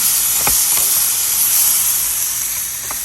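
Vegetables sautéing in a hot pan give a steady bright sizzle and hiss throughout, with a few faint utensil taps against the pan, close and fairly loud.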